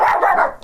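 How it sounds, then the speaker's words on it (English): A single loud, close dog bark, short and sharp with no talk over it. "Why are we barking now?"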